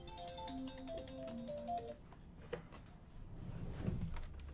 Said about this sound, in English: My phone was going off.